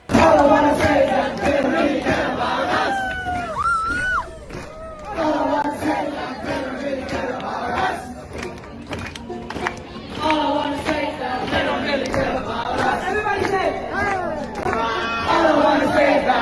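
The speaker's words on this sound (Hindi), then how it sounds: "सुनिए, अंग्रेजी गाना गाते हुए वहां पर युवा किस तरह से एक तरह से प्रोटेस्ट अपना दर्ज करवा रहा था" A large protest crowd of young people sings an English song together in loud, rhythmic unison, voices rising and falling with chanting and cheering throughout.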